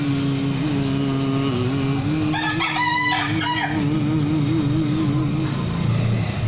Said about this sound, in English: Even the chicken sings with you